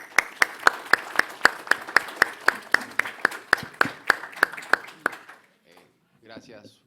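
Sparse applause at a book launch on maritime law in Peru: a small group claps in a slow, regular rhythm of distinct, sharp claps for about five seconds, then stops, and a voice begins speaking at a microphone.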